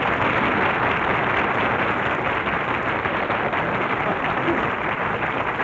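Studio audience applause at a live radio comedy show, a steady dense roar of clapping that stays loud and even throughout, with no voices over it.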